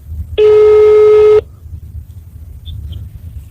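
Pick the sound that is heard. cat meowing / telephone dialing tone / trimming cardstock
telephone dialing tone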